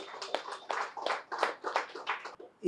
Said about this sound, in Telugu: మనం అందరం ఒకసారి గట్టిగా క్లాప్స్ చేసుకుందాం